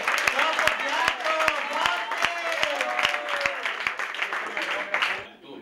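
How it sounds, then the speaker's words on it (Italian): An audience claps, a dense, moderately loud patter of applause with a voice talking over it throughout; the applause fades out at the end. "un applauso per favore"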